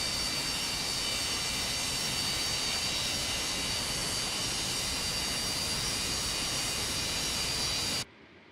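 Steady, loud roar of Boeing 727-200 jet engines heard from outside the airliner in a flight simulator game, a broad continuous rumble and hiss that cuts off abruptly near the end.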